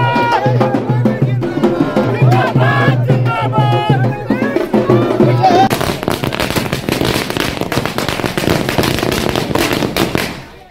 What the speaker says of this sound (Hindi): जेडीयू कार्यकर्ताओं ने ढोलबाजे के साथ आतिशबाजी की